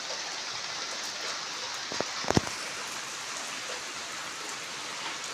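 Steady rain falls outside a home kitchen, a continuous broadband hiss with a few brief louder knocks or drips near the middle, and no voices.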